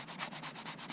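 Rhythmic scratchy rasping of sandpaper, about eight steady back-and-forth strokes close by, with no voices.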